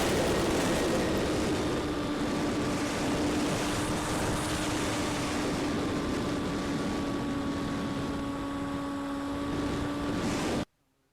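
A SkyMule drone in flight before a crash landing, a steady droning motor whine with a sustained tonal hum under wind rush, loud and continuous, then cutting off abruptly at the end.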